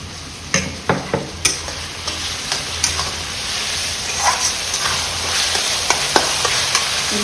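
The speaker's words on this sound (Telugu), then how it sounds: "ఉల్లిపాయలు బాగా ఎర్రగా వేగాలండి." Diamond-cut onions fry in a pan while being stirred, producing a constant close sizzle broken by repeated sharp scrapes and taps of the utensil.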